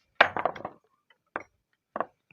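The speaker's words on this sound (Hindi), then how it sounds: "ये तो मैंने दरवाज़ा जो है वो खोला है तो उसकी आवाज़ आई है।" A door is opened in a room, giving a short burst of wooden knocks and rattles followed by two brief, separate clunks, fairly close with silence between them.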